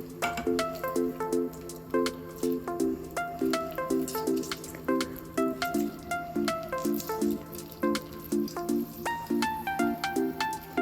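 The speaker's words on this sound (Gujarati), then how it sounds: "આપણે એને એક જ સાઈડ હલાવવાનું છે, એક જ સાઈડ, બંને સાઈડ નહીં" A spoon stirs soaked-lentil khaman batter mixed with oil, soda and lemon, round in one direction only, making a repeated soft wet squish and drip rhythm, with close tapping clicks and no talk.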